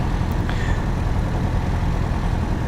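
A Scheibe Falke SF25C motor glider's engine drones steadily at cruise power in the cockpit, a loud, dense, unbroken roar with no pauses.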